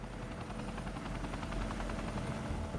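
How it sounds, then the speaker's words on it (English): A Chinook helicopter's rotor beats in a steady, rapid chopping drone, constant and moderately distant, with no voices. "Chinook helicopters are drafted in to dump water from the air"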